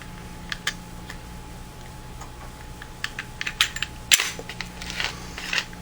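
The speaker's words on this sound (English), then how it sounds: "we're going to rack the slide back, and we're going to dry fire it, and we're going to take the slide off" The slide of a Glock 23 .40 caliber pistol is racked and dry-fired, producing a series of crisp mechanical clicks and one sharper snap, close and fairly quiet.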